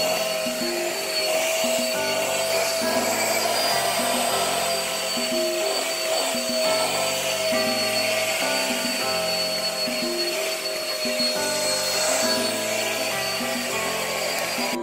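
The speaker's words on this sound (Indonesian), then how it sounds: "Kali ini saya mau membersihkannya pakai vakum supaya terasa" A vacuum cleaner runs continuously while cleaning a bedroom, a steady loud motor whine with a high tonal hum that holds throughout with slight shifts as it moves.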